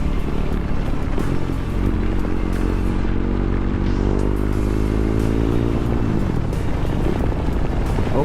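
A superbike motorcycle rides along on a road in Dimapur, Nagaland, its engine droning steadily under wind rush, with the pitch climbing as it accelerates partway through; no talking.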